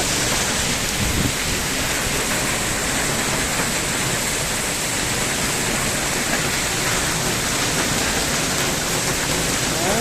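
Heavy rain pours down steadily in a strong wind, a dense, loud, continuous hiss that holds even from start to finish, with no voices.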